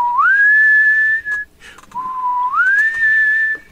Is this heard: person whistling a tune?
yes